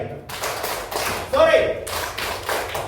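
Schoolchildren in a classroom clapping game strike their hands in quick rounds, several bursts of crisp taps close by, while a teacher speaks over and between the claps.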